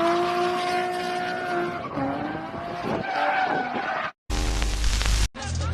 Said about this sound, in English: This driver just saved his Lamborghini. Drifting like this around the mountains might not be the best idea,